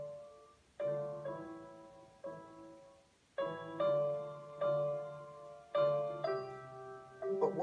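Piano plays the Vivaldi La Follia sonata melody, Opus 1 No. 12, a slow series of struck chords and notes that ring and decay, quiet and solo without voices.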